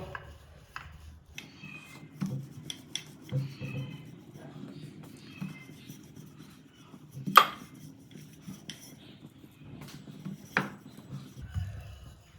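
Stuffed cauliflower paratha dough being rolled out on a board, producing soft, repeated rubbing and knocking thuds with a few sharper taps, fairly close and moderately quiet.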